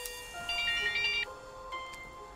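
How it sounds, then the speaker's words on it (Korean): A phone ringtone from a horror film plays as a bright, repeating electronic melody of short tones, moderately loud over a quiet background, followed by a couple of brief fainter chimes. "본인이 설정한 벨소리가 아닌 다른 벨소리가 울렸을 때"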